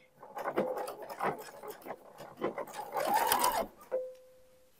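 A sewing machine running decorative topstitching on a pair of men's shorts, heard as short uneven bursts of mechanical stitching rattle, close and moderately quiet, with a brief tonal whir near the end.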